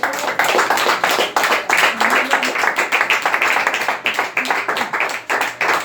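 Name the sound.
applause from a church congregation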